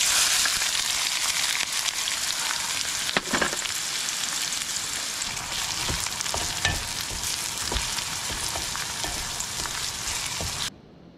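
Onions sizzle and crackle in a hot pan at a rainy campsite in Uttarakhand, a steady bright frying hiss broken by occasional stirring clicks, close and loud until it cuts off at the end.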